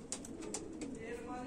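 Homing racing pigeon, one that strayed off course from its long flight, cooing softly at a distance amid background noise and faint bird chatter.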